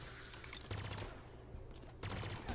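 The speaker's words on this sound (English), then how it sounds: "I kept misfiring this weapon right here, the pulse carbine" Pulse carbine firing in Halo Infinite, a video game energy weapon, with bursts of rapid rattling shots in two clusters and a brief pause between them, loud and without talk.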